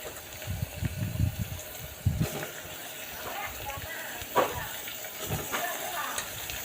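Washed mutton hits a pan of fried green chillies for gongura mutton, with a soft sizzle, watery splashes and occasional clatters, fairly faint beneath a person talking.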